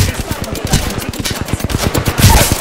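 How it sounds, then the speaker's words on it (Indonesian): Rapid automatic gunfire in the Apex Legends battle royale game, dense bursts of shots rattling almost continuously and loud throughout, with no talking. "Ada depan belakang duk tembak aku."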